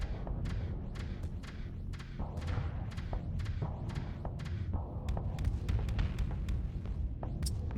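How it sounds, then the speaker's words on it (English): Starship missile fire in a space combat game: a rapid, irregular string of sharp thuds and cracks over a dense, rumbling low-frequency drone, loud and continuous. "It's gonna fire missiles."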